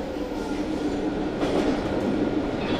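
A JR Shikoku KiHa 185 series diesel railcar on the Iyonada Monogatari sightseeing service rolls along the Yosan line. Its steady, close rumble and wheel noise carry on without pause.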